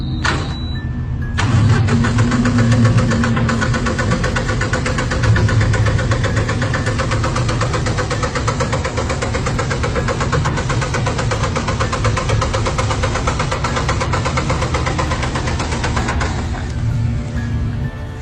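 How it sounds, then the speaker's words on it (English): A bus engine cranks briefly, catches, then settles into a steady, loud idle that holds unbroken for a long stretch before cutting off at the end. "Something is trying to start the bus."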